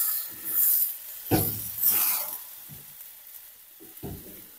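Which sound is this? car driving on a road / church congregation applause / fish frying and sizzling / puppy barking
fish frying and sizzling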